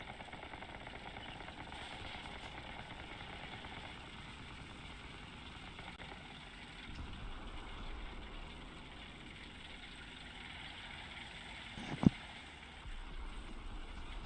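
A low, steady tank engine rumble in War Thunder drones throughout, with a brief sharp knock near the end and no talking.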